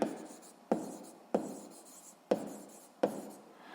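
Chalk or pen scratches out a formula by hand in a physics lesson, with five sharp taps each followed by a fading scratchy stroke, close and clear with no talking.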